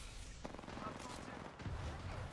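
Rapid bursts of gunfire in the video game Apex Legends crackle continuously through a dense, noisy mix, with muffled voices faintly underneath.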